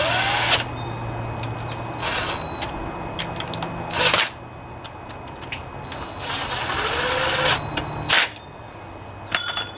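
Short, sharp bursts of a power drill spin up and stop several times, spaced a few seconds apart, while work is done on a Honda GC160 5.0 horsepower small engine; a faint steady hum fills the gaps.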